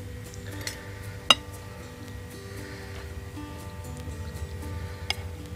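Utensils clinking against a bowl while stirring seblak noodle soup, a few sharp metallic taps, one louder near the start and another near the end, over a quiet background hum.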